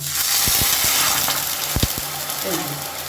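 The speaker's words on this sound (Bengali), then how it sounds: "এবার এর মধ্যে আমি দিয়ে দেব পরিমাণ মতো জল" Masoor dal chorchori frying in a pan, with water poured in: steady loud sizzling hiss throughout, broken by a few knocks of a spoon against the pan.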